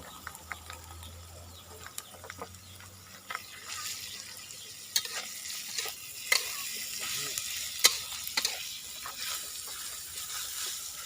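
Eel stir-fried with fingerroot (krachai) in a hot pan, a continuous sizzle broken by repeated scraping and clattering strokes of the spatula, close by, with a low rumble at the start and no voices.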